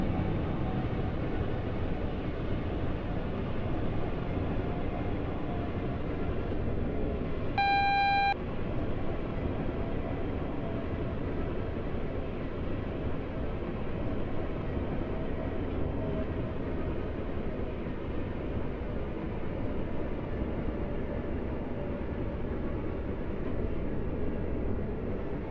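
A train in the Roblox British Railway game rumbles steadily as it brakes, with a brief tonal horn-like chime partway through and no talking.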